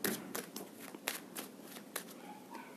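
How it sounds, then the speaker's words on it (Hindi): A deck of tarot cards being shuffled close by: soft, crisp riffling and slapping in irregular bursts, with no voice over it. "let me take more cards और देखते हैं इस वाले डेक से"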